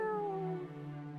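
A cat in the video game Dragon Quest VII gives one clear, falling meow that is drawn out, close and alone, with no talking over it.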